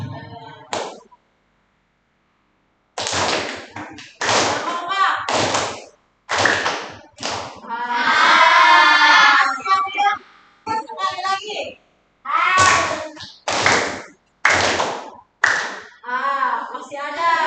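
Children in a classroom play a clapping game, sharp bursts of clapping in short irregular rounds broken by pauses, with a teacher talking between them.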